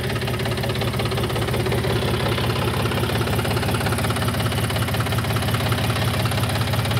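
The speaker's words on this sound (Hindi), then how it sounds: "बहुत लो साउंड है ट्रैक्टर की" A John Deere 5045 D 45 hp 4x4 tractor engine idles steadily with a low, rhythmic chugging rumble, close and constant throughout.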